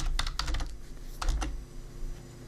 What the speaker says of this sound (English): once you've typed any text you want to appear before your contact form, just hit return on your keyboard